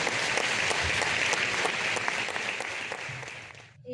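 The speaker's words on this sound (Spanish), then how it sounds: "Le damos un aplauso" Steady applause from an audience honouring members of a housewives' association at its 50th anniversary, dense clapping that holds firm and then tapers off abruptly at the end.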